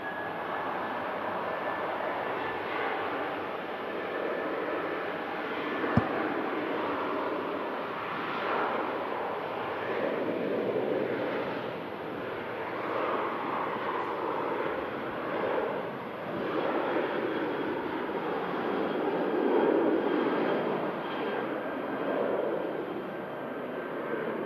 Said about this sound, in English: Jet 273 heading out to Gran Canaria.